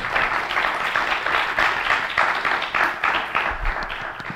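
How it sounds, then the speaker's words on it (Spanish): An audience at a panel discussion applauds warmly, a steady mass of clapping of moderate loudness lasting about four seconds, with faint voices underneath. "Por favor, un aplauso."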